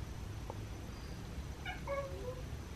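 An unhappy cat by a back door sounds off at another cat with a few faint, drawn-out wails against a quiet background hiss.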